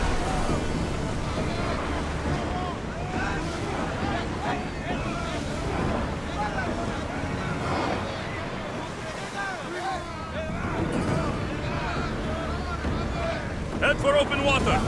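A sailing ship surges at full speed across open water in the Assassin's Creed video game, with a loud, continuous rush of surf and wind running steadily through the whole stretch.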